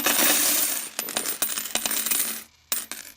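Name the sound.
bag of gold coins poured onto a table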